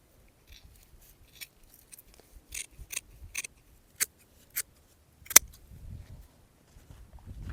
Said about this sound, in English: So I think I'm just going to cut it because, man, those seams are not wanting to come out.